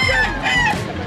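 Chickens and roosters crowing and clucking together at a busy pet market in Bocaue, a dense, loud chorus of fowl with no pauses over a brief stretch.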